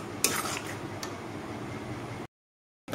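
Palm pulp mixed with dried coconut powder is stirred in a bowl, giving a steady scraping, clinking rustle for about two seconds before the sound cuts to silence.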